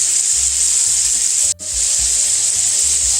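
Scallops sizzle in browned butter with dense, bright, continuous frying hiss close up, a brief dropout midway and soft low thumps beneath, no voices.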